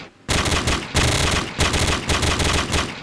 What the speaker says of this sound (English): The police are shooting each other?